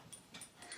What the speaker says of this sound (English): That's why she's barking, because she can hear people outside